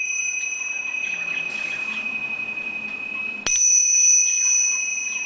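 A metal singing bowl or tuning fork ringing over a crystal: a sustained pure tone hangs throughout, then a sharp strike near the middle sets off a louder, brighter ring that lingers to the end, with no talk.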